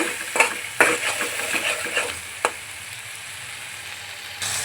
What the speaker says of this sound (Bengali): এখন মশলাটা ভালোভাবে কষিয়ে নেব